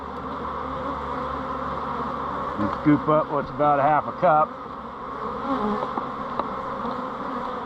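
Honeybees being scooped from a hive frame for a varroa mite test hum in a steady close buzz, with someone talking over it partway through.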